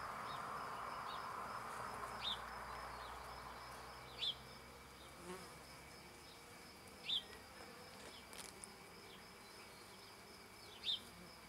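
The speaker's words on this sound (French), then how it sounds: "Je souffle un tout petit peu sur les abeilles pour les écarter" Honeybees crowd a hive frame, giving a steady, soft, close droning buzz that stays even throughout, with a few faint chirps recurring in the background.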